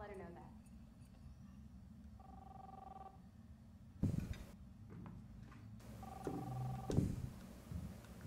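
A phone rings in Life is Strange in two short tonal bursts against faint room ambience. A few thumps and a voice come in between the rings.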